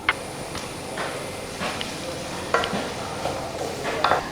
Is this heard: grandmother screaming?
no